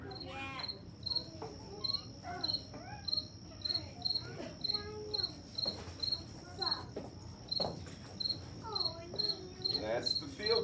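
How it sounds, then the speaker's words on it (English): A recorded field cricket chirps in a steady, regular rhythm of short pulsed bursts, clear and continuous, with faint background sounds and brief higher calls mixed in. "That's the field cricket."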